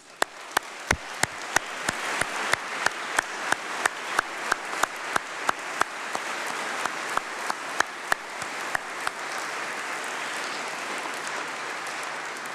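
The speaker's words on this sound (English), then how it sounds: "Let's give them a big round of applause." A large crowd in a great hall applauds at a summer university congregation ceremony, starting with a few separate sharp claps and building into a steady, dense wash of clapping that holds to the end.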